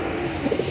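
Pigeons cooing softly at close range, a few short low murmuring coos rising over a steady background hum, being kept for the sport of pigeon flying.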